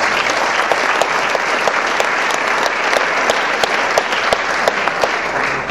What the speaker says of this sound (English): let's give Larry a round of applause